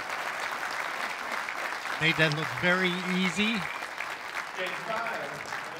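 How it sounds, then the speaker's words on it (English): An appreciative crowd applauds a pool shot at the 2015 WPBA Masters semifinal, a steady moderate wash of clapping from the audience, with a commentator talking briefly over it. "And an appreciative crowd, as they have been all week."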